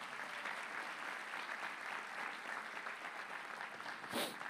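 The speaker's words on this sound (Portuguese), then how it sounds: "Você pode aplaudir o Senhor por isso?" A church congregation applauds during a Portuguese-language sermon, giving sustained, even clapping that stays soft and distant, with a brief sharper burst close to the end.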